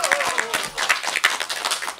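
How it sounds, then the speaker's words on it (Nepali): A live audience at a Nepali dohori song show claps steadily for a couple of seconds, dense and close, with a voice cutting through. "उहाँलाई जोरदार ताली दिउँ"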